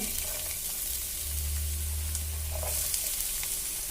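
Cumin seeds frying in a spoonful of oil in a pan as chopped onion goes in, a constant close hiss of sizzling with a low hum underneath and faint clinks, no talking.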